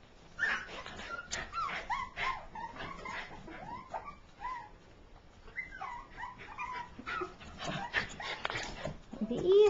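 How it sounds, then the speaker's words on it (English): A mother dog in a kitchen with her puppies whimpers and yips in short, high, uneven bursts, close by, while someone talks softly over and between the sounds. "Is there a dog in there, Stinger? Is there a dog in that oven?"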